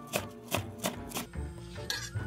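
A knife chops chives on a cutting board in a handful of sharp, evenly spaced strokes, close and clear, with no talking.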